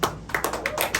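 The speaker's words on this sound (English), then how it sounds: "Thank you for clapping for that." Audience clapping at a live comedy show, a brief burst of scattered hand claps close by with uneven taps, no voices over it.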